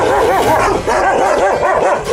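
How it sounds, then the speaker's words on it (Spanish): Several dogs bark and yip aggressively close by on a street in Egypt, with overlapping, rapid, loud barks filling the whole stretch with no pauses. "Otros perros que me quieren atacar."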